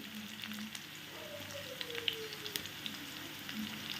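Sliced onions frying in a pan for a Bengali chechki shaak dish, giving a soft, steady crackling sizzle with faint pops throughout, heard alone without talk.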